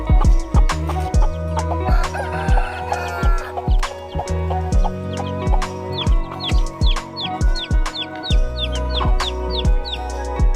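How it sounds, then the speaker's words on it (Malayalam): A rooster and hens in a Kasaragod yard cluck close and loud in a steady, busy rhythm, with the rooster guarding chicks and short chirps breaking through. "സംരക്ഷിക്കുന്നത് പൂവൻ കോഴിയാണ്"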